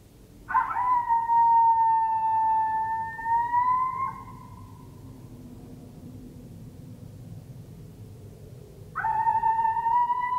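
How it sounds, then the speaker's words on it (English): Coyote howls played through an electronic caller during a coyote and fox hunt outdoors: a long, loud, wavering howl, a quiet pause, then another howl starting near the end, heard at middle distance. "to go with some coyote howls and barks on the e-collar to see if that sparks anything's interest"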